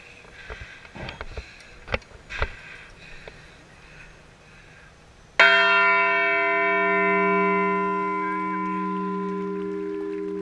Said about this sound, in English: So I'd like to ring the bell